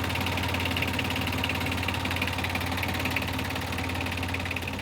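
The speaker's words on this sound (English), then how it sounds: "So now let's start the engine and see how it does." A sailboat's inboard engine, belt-driven water pump and alternator attached, running with a steady, quiet mechanical clatter and a low even hum, unchanging throughout.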